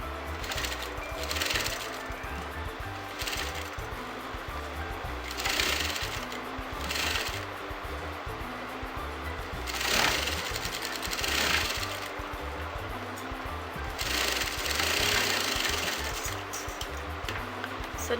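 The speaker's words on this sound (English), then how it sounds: "And now I'm going to sew at the margin" A sewing machine stitches pin tucks in white thread, a close, steady mechanical chatter that runs in several bursts with brief pauses between them, with no voice over it.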